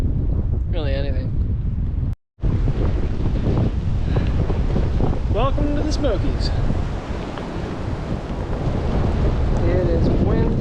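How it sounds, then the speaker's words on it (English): Strong gusty wind buffets the microphone on a wet, exposed trail in the Smoky Mountains, a loud continuous roar throughout, with someone speaking briefly over it. "It is windy and wet and big and awesome."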